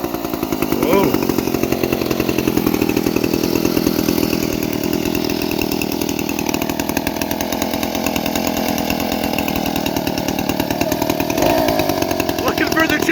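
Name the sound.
Stihl 090 chainsaw running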